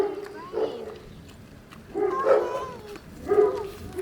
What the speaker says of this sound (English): There's a Rottweiler up there, desperate to get down and get to Eden.